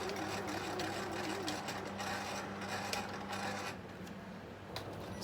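Sewing machine stitching a cushion panel for a Christmas bag, a continuous fast mechanical whir and clatter, fairly quiet and close, easing slightly toward the end.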